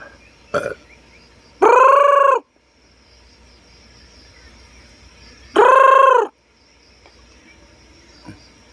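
Two loud, drawn-out harmonic crowing calls from a red junglefowl, a few seconds apart, with quiet outdoor ambience and faint clicks in between.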